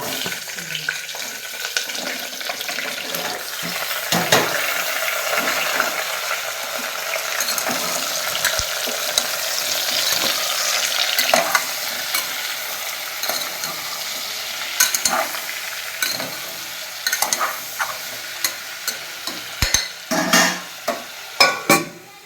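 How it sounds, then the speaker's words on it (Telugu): Tomatoes, green chilies, carrots and onions frying in a pan while being stirred, giving a steady close sizzle with scraping and clinking spoon strokes that grow sharper and more distinct toward the end. "టమాటాలు పచ్చిమిరపకాయలు క్యారెట్ ఉల్లిపాయలు ఇప్పుడు తిప్పు"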